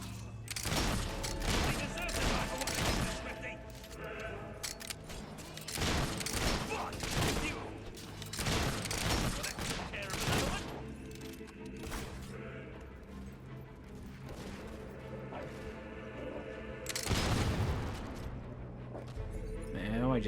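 Gunfire from a firearm in the fantasy action game Fable 3, with dense bursts of shots and crashing impacts over a busy game mix, repeating in loud clusters throughout.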